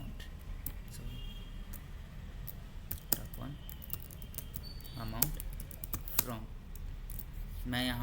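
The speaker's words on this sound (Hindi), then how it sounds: "टाइप करो सेलेक्ट ना टॉप 1" Keys on a computer keyboard clatter in short, uneven bursts while someone writes an SQL query. The close, dry clicks sit over a quiet room background, with a few louder key strikes.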